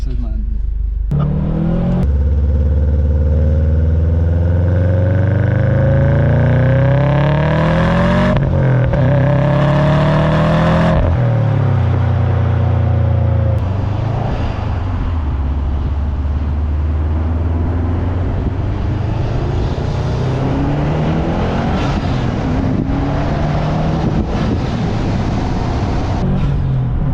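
Turbocharged Subaru flat-four, a 2013 STI or 2018 WRX, revving with loud exhaust rumble, rising and falling in pitch in several pulls, with people talking over it throughout.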